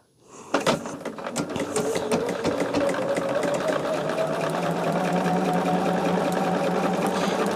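Sewing machine stitching fabric for an acorn garland, a rapid rhythmic mechanical chatter that starts abruptly and runs steadily and fairly loud throughout.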